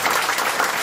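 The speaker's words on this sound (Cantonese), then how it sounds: "俾掌聲先都要。" An awards ceremony audience clapping, a brief dense burst of applause from a room full of people, loud and close.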